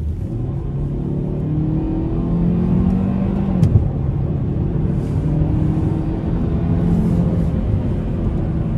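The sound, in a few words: 2025 Hyundai Sonata 2.5 four-cylinder accelerating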